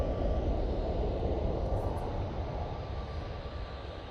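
A TUI airliner taxiing at Manchester Airport gives a steady, distant engine rumble and whine that fades slightly toward the end.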